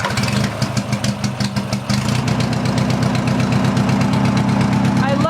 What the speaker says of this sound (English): This one starts a little bit more rough, but it does not have a knock.